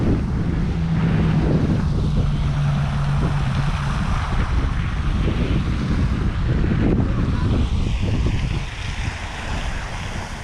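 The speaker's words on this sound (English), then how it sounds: "This wind though is pretty hard." Strong wind buffets the microphone beside a lake during bass fishing, a continuous loud rushing roar with gusty surges that eases somewhat near the end.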